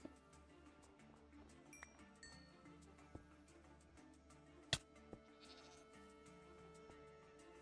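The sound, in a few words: goat bleating in Minecraft video game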